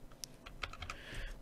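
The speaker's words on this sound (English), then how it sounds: "So I'm going to type in interface" Keys clatter on a computer keyboard while a name is entered into an Unreal Engine 4 search field, a few quick separate taps followed by a short burst of close, quiet typing with no voices.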